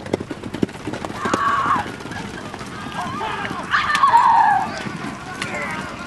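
A horse whinnies twice with rising, wavering calls over faint hoof clatter and background voices on a film set, fairly close and clear.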